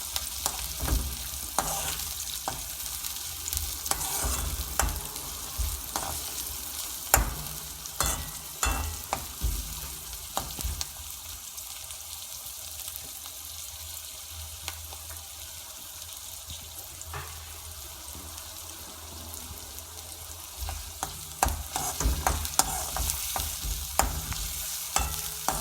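Onion frying and being stirred in a pan while making chili paste, a steady low sizzle broken by scraping stirring strokes, with a brief stretch of running tap water.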